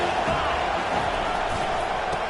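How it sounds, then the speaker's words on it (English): Stadium crowd at a football game, a dense steady roar of many voices cheering and shouting, loud and sustained from start to finish. "This crowd bringing the energy and noise early."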